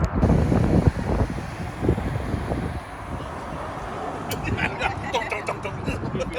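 Wind buffeting the microphone with rough, gusty rumbles while a person talks, with some traffic-like noise underneath, on a motorway slip road in the UK.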